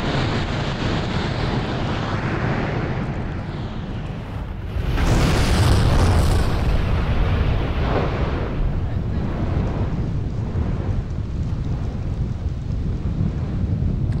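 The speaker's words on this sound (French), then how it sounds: "les gaz se détendent. C'est l'explosion. C'est ce que vous entendez derrière." A deep, roaring volcanic blast on Vanuatu swells up after a steady rumble, followed by sustained thunderous booming and rushing noise, loud and broad.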